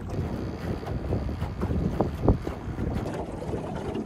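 A small electric trolling motor pushes a fishing boat across the water, heard as a low churning hum mixed with wind buffeting the microphone and a couple of brief knocks, with no voices.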